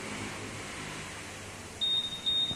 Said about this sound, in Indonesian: Kalau alarm sudah aktif seperti itu, maka answer back juga akan aktif, bersuara titit